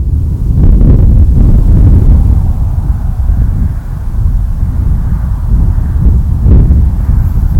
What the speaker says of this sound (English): It's a really windy area in here.